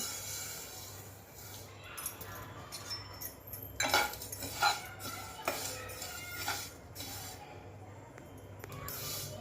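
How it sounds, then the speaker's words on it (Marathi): Sesame seeds dry-roasting in a pan, stirred with a utensil that scrapes and clinks against the metal in soft irregular bursts, quiet and close, with a faint low hum beneath. "आता आपण हे तीळ थोडेसे भाजून घेऊया."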